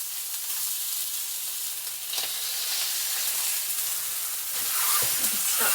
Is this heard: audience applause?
no